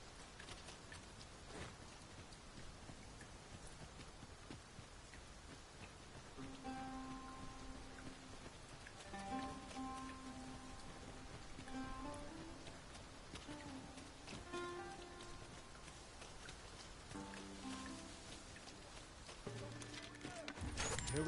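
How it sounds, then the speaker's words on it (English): Rain falls steadily in the Dragon's Dogma 2 video game, a soft continuous patter under quiet game music, with a faint clatter of hooves and footsteps and no talk. "Rain can be treacherous."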